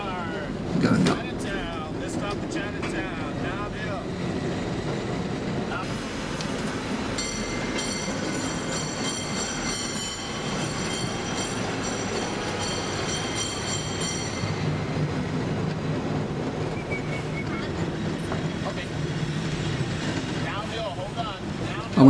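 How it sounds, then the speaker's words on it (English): A San Francisco cable car rolls along a city street, giving a continuous rumbling, rattling ride noise with metallic whines and tonal squeals. Wind buffets the microphone throughout and there is no speech. "So that's the cable car."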